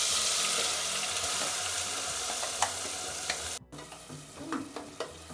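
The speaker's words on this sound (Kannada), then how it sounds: "ಇದು ಹಸಿ ವಾಸನೆ ಹೋಗೋವರೆಗೂ ಫ್ರೈ ಆಗಬೇಕು." Leftover ground masala paste fries in hot oil in a pot for a home-cooked palak unde sambar, a steady close sizzle, briefly interrupted, then softer frying with occasional stirring scrapes.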